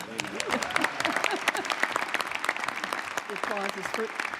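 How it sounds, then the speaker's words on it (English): Audience applause at a government space council meeting, a moderate, steady patter of clapping with people talking over it throughout. "I think that's worth a round of applause."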